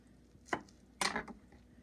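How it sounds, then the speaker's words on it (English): Knife chopping wood ear fungus into pieces on a board, two distinct close cuts about half a second apart, the second a little longer, in a quiet kitchen. "And then I just chop it into pieces like this"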